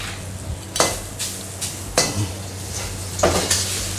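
Pork and holy basil being stir-fried dry in a hot pan over high heat, a steady sizzle broken by several sharp scrapes and clanks of a spatula against the metal.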